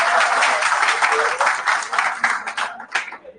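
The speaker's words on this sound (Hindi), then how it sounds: "ताली बजा दो।" A classroom of students applauds, a dense burst of hand clapping, loud and close, that continues steadily and then tapers off as a few claps trail away.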